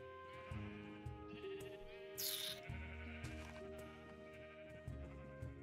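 Several sheep in a video game bleat over a steady backdrop of layered game music and ambient tones, the calls repeating at moderate volume across the scene.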